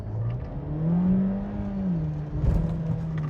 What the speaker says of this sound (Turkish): Tam duramayacağım ama biraz gazlayayım